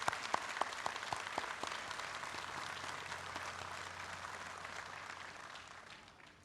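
Applause at a 71st Armed Forces Day ceremony, opening with a few distinct claps that swell into broad, distant-sounding crowd clapping, then taper off gradually near the end.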